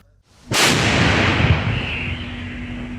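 A single heavy blast from a Polish Krab self-propelled howitzer cracks out suddenly, then a long rumbling roar trails off, loud and close.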